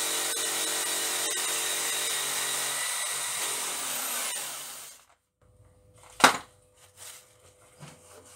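A wire brush on a power tool scours a rusty car wheel arch in a loud, close, harsh whirring grind that winds down and stops midway, followed by near silence and a few clanks and knocks.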